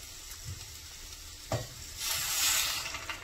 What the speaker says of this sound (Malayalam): ആവശ്യത്തിന് വെള്ളം ഒഴിച്ചിട്ട്